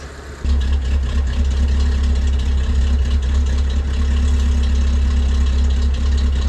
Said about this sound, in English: You can hear it's varying the idle.